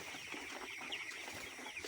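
Broiler chickens of mixed sizes in a poultry shed keep up a steady, close chorus of soft clucking with no talk over it.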